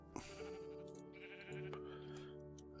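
A sheep in the TerraFirmaCraft video game bleats several times, with wavering, nasal calls that rise and fall over a steady background hum, clear and close.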